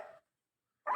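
An African grey parrot imitates a dog's bark, giving two short, clipped woof-like calls separated by a brief silence, close to the recorder.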